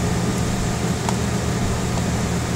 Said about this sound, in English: That's an air conditioner.